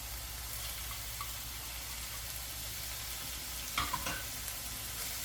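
Meat and onions stir-fry in oil for japchae, producing a soft, even sizzle with a brief burst of utensil clatter near the end.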